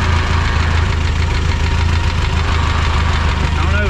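A 1952 Ford 8N tractor engine idles steadily up close in neutral with a rapid, even knocking pulse running through its constant drone; the knock goes away when the clutch is pushed in.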